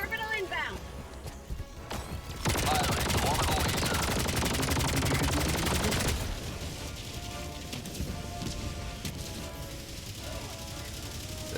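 Gunfire from a weapon in the video game Helldivers 2 rattles in a sustained, dense automatic burst lasting a few seconds, loud and close, with someone talking over the game sounds around it.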